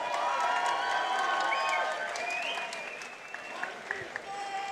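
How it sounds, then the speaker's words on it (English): A crowd at a fight league event applauds the fighters after a TKO. Dense, loud clapping and cheering carries on under a ringing announcer's voice, then eases off into scattered claps. "A round of applause. Come on."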